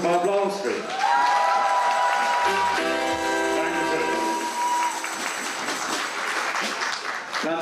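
Audience applause for dancing girls at a German carnival session, a broad steady wash of clapping mixed with crowd noise and music tones, loud and sustained throughout.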